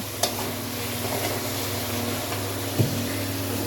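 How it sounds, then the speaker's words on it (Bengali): Chicken sautéing in a pan during a home curry cook, giving a steady, close sizzle throughout with a couple of brief clinks of stirring, no voices. "ঠিক আছে চলো একটু ভাজা হোক"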